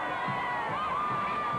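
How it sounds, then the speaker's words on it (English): High school football crowd on a cold December night, a distant, steady roar of cheering and shouting across a stadium, fairly faint and continuous. "There's tonight's crowd."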